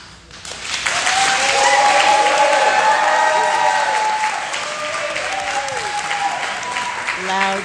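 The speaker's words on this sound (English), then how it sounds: "Loud claps from the sports contingent." A public meeting crowd, including a sports group, breaks into loud, sustained applause and cheering at a joint neighborhood meeting on the FDR Park plan, the clapping swelling quickly and holding steady for several seconds.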